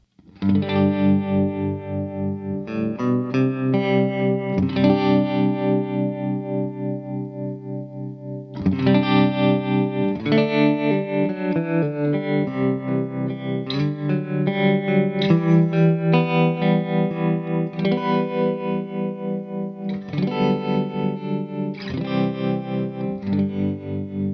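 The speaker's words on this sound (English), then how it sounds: "all the way harmonic tremolo has a lot of kind of that phasiness to it" Sustained distorted electric guitar chords through a Walrus Audio Monumental harmonic tremolo pedal, with a pulsing, phasey wobble, continuous, with short breaks between strummed phrases.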